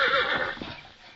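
A white horse whinnies loudly in an old radio drama, a clear neigh with a fading tail over soft background noise, no talking over it.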